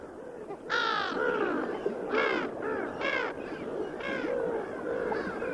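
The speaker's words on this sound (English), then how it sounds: "Brown-headed gulls." Brown-headed gulls call out over a mountain lake, giving a series of about five loud, harsh, drawn-out cries at irregular intervals against a quiet background.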